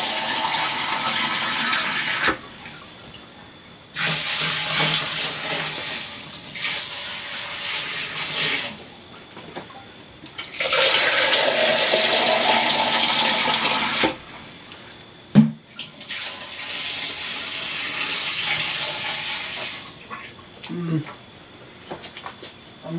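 Water poured from jugs into a fish tank during setup, arriving in several separate gushing bursts a few seconds each with quiet gaps between, fairly close, and a voice talks at moments.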